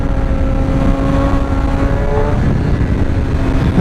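A Suzuki GSX-R 750 motorcycle engine holds a loud, steady high rev through a wheelie, its harmonic whine sliding slightly in pitch over heavy close-up wind buffeting.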